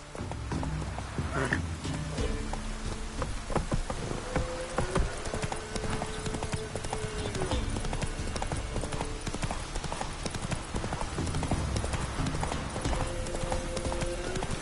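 Hooves of Roach, a horse in The Witcher 3, clip-clop in a steady galloping rhythm close by for the whole stretch, over a continuous outdoor game ambience with music-like tones and brief snorts.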